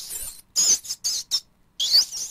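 Rats scurry and squeak in the space above a room at night, making several short high-pitched squeaking and scratching bursts with brief gaps between them.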